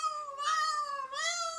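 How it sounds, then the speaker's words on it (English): A cat being swung around lets out a loud, drawn-out yowl, rising and falling in one continuous wavering cry that stands alone at close range. "She swings the cat around her head."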